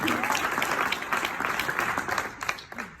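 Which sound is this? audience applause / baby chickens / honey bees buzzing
audience applause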